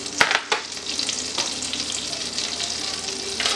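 Blackened Cajun shrimp searing in hot melted butter in a pan, a close, steady crackling sizzle with a few sharp pops and clatters at the start, no talk.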